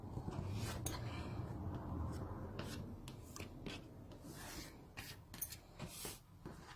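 Quiet, rasping strokes of a blade trimming quilting fabric on a cutting mat, soft and close, with short gaps between passes.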